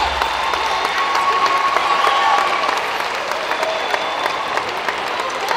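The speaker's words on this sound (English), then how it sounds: "Give yourself a round of applause." An awards night audience claps in a dense, sustained round of applause that holds steady for several seconds before easing slightly, with faint crowd murmur and a thin tone running underneath.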